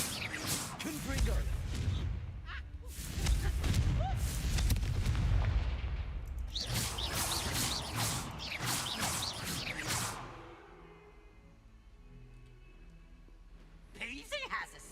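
Fiery blasting-spell explosions from Hogwarts Legacy, loud booming bursts with crackling whooshes in a fast sequence over about ten seconds, then a quieter tail with a small flare at the end, amid busy game combat noise.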